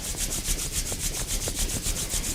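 Hands rub briskly over skin during a self-massage, making a close, rhythmic swishing of quick, even strokes with no pauses.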